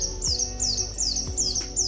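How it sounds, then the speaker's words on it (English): Crows cawing repeatedly in a steady rhythm, several harsh calls spaced about a second apart, fairly close over a quiet outdoor bush background near Perth, Western Australia. "Listen to those birds."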